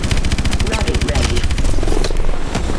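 Rapid automatic gunfire from the video game Call of Duty: Advanced Warfare rattles in fast, evenly spaced bursts, loud and close, with a voice speaking over the shooting.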